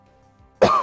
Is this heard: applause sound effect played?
no